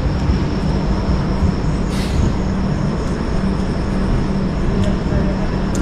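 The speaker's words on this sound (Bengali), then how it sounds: "খড়গপুর স্টেশন থেকে আমরা ঠিক 12:22 ট্রেন ছেড়ে দিল খড়গপুর থেকে" The 12837 Howrah Puri Superfast Express runs on after pulling out of Kharagpur, giving a steady, loud, unbroken rumble of wheels and carriage noise with no breaks or distinct events.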